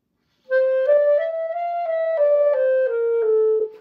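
Clarinet played with the mouthpiece angle too far out so too little reed vibrates, producing a timid, weak, muffled tone: a few connected sustained notes rising then falling, soft-edged and close, with no talking.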